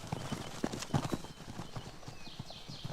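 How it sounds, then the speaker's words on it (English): Konik pony hooves clip-clop in a steady, quick rhythm in Poland, fairly faint, with a light outdoor background and distant birdsong. "The Konik, or Little Horse, is a race of pony from Central and Eastern Europe."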